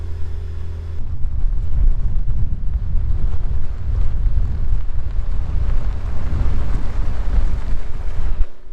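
Strong wind buffets the microphone on a dusty Rocky Mountain road during an off-road overlanding trip, a loud, continuous roaring rumble that starts after a brief lull and holds steady to the end.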